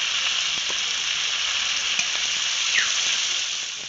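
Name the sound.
chopped onion, garlic and green chili added to hot tempering oil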